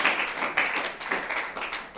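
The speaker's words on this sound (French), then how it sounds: "j'aimerais vraiment qu'on prenne un temps pour applaudir chacun des stylistes pour ces talents de mon pays" An audience claps for the fashion stylists at an event, a dense run of handclaps with repeated surges, fairly close and loud, with no voices over it.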